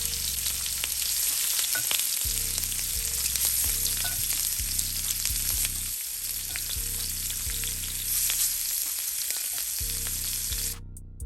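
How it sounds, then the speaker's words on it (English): Shrimp sizzle loudly in a hot skillet for a fajita dish, with a steady frying hiss and bursts of crackle running throughout, close and without talk. "You hear that sizzle right there?"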